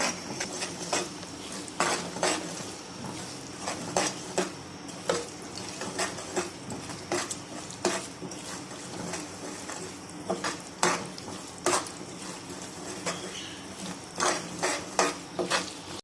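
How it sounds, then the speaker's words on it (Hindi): Semolina is roasted and stirred in a pan over a low flame for halwa, heard as repeated scraping and clinking of a spoon against metal in an irregular rhythm over a faint background hiss. "सूजी को हम बिल्कुल हल्की आंच पे 3-4 मिनट के लिए भून लेंगे।"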